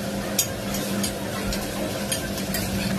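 Turmeric and coriander powder are stirred in a frying pan with a steady, soft scraping and sizzling texture. Faint utensil taps recur at a loose rhythm, close and moderately quiet.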